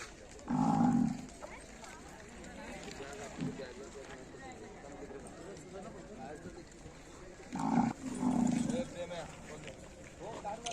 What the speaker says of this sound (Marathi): मित्रांनो बघा इथे एक आणखीन एक बैल आहे